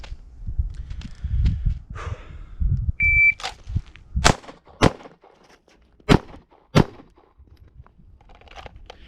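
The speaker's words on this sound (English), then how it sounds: "make a single step movement to the left and fire 2 rounds left target." Handgun shots ring out on a law-enforcement qualification range as four sharp, loud cracks come in two quick pairs, with a shot timer's beep and low shuffling and handling noise between them.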